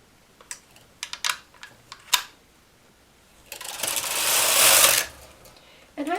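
Domestic knitting machine knitting one last row at tension 2 on a mock-rib piece: a few scattered close clicks and clacks, then a loud, steady swishing rattle of the carriage sliding across for about a second and a half, with no talking.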